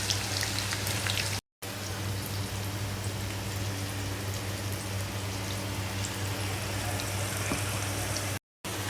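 Sliced onions sizzle in hot oil in a wok, a dense, steady crackling hiss held close and loud throughout, broken only by two very brief silent gaps.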